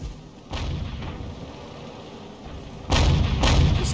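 SU-8 self-propelled artillery firing in World of Tanks: a few heavy, booming shots with rumbling tails, the last two louder and close together, with no talking.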